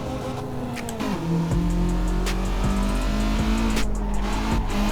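A Honda Civic 1.6 VTi is driven in the Assetto Corsa racing game on a Dubai map, its engine droning steadily at a close, loud level as the pitch climbs and shifts with gear changes, with faint tire noise under it.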